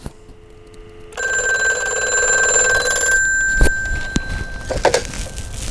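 A field telephone on a simulated phone circuit, wired through a full spool of WD1A cable, rings with a bright, sustained electric bell for about two seconds, followed by a few sharp handset clicks and knocks.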